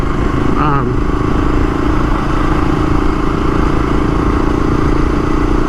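An XL500 motorcycle riding on gravel, a loud steady engine drone with wind buffeting the microphone throughout, a close, continuous rumble without clear gear changes.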